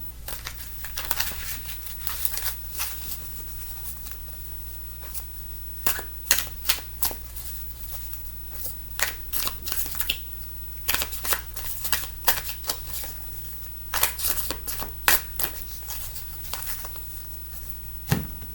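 A deck of Metaphysical Cannabis Oracle cards is shuffled by hand in repeated bursts of riffling and slapping, close and crisp, with short pauses between shuffles and no talking.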